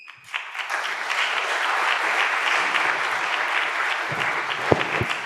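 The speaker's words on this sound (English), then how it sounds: "A round of applause for our guest, please" A ceremony audience at an honorary doctorate event gives sustained applause for a guest, a broad even wash of many hands clapping that starts sharply and holds steady, with a few louder knocks near the end.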